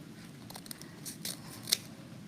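Scissors cutting doubled ribbon for a hair bow make a few short, crisp snips close by, the last one the sharpest.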